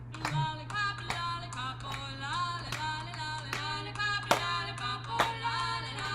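A therapy choir group claps hands in a steady rhythm, a run of crisp, regularly spaced claps over a constant low hum, with tonal sung or hummed notes layered underneath.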